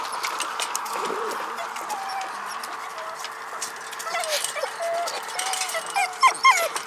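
Puppies whimpering and yelping in a busy outdoor scene, with small squeaky cries growing more frequent toward the end over steady background noise and faint bird-like chirps.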